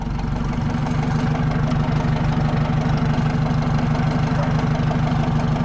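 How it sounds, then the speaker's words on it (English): A Ford F100 pickup's engine runs at a steady, rough idle as the truck backs up, loud and close, with a continuous low rumble and rapid knocking pulses and no talking. "Walt, we're gonna back it up this way so you're gonna have to start cutting the wheel to the left, all right?"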